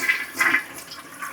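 A toilet flushes just after a new wax ring is installed, giving a brief rushing swirl of water at close range.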